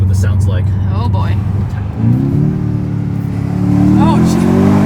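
The engine of a BMW X5M Competition SUV idles, then revs up at about two seconds into a strong, rising acceleration roar heard from inside the cabin, with people talking over it.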